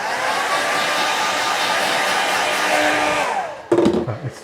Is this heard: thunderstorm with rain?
no